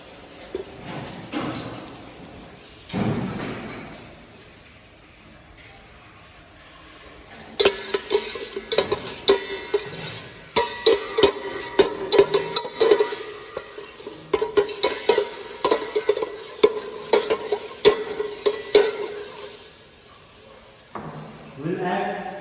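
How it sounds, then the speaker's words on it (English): Pressed garlic sizzling in butter in a pan, a steady frying hiss with repeated scraping and stirring clinks from a utensil, preceded by a few quieter kitchen knocks. "add some pressed garlic. Into a little bit of butter."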